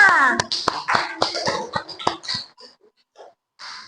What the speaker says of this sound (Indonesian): Silakan duduk, tepuk tangan semua.